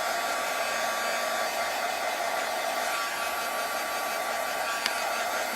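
A heat tool blows steadily over curling cardstock for a card project, a constant airy whir like a hair dryer running alone at moderate volume.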